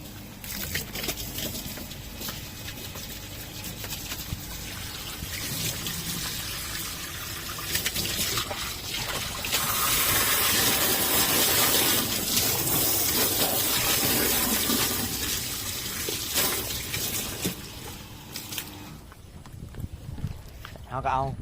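Tap water pours steadily into a basin, a close, continuous gushing that swells midway, with people talking over it throughout.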